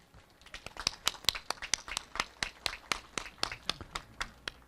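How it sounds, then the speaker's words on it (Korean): A small group of emergency response drill participants claps at the close of a city disaster training exercise, with sharp, fairly even claps at a moderate distance and no talk over them. "격려약 박수 한번 보내주십시오."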